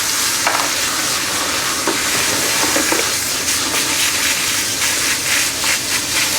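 Water runs steadily at a sink while a hair color brush is scrubbed and rinsed under it, a continuous close splashing hiss with faint brushing strokes and no talk.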